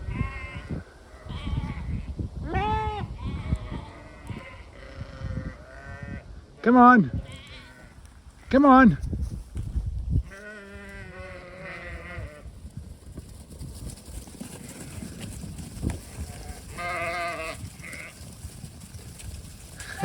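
Sheep bleat repeatedly, several loud close calls among fainter ones, while being moved to a new paddock on a farm; a person calls to them intermittently over rustling movement.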